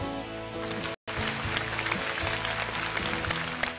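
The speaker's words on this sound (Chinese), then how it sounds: "掌声送上。" Studio audience applause at a Chinese comedy competition show, a dense steady wash of clapping that fills the whole stretch, broken by one brief cut of silence near the start.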